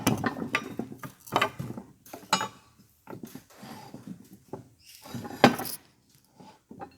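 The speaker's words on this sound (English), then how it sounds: "So if we roll this cylinder head over" A tractor cylinder head from a Massey Ferguson MF135 being rolled over on a bench, giving a series of close, irregular metallic clunks and scrapes with quiet gaps between them.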